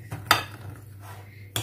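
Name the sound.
mixing chocolate into doughnuts in a bowl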